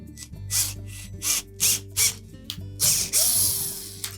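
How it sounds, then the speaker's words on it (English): A screw is driven into an unthreaded hole in a new Whirlpool oven hinge, cutting its own thread, with a series of short, loud bursts of a driver at a steady rhythm and one longer burst at the end. "you run the screws into the 2 existing holes in that new hinge because they're not pre-threaded"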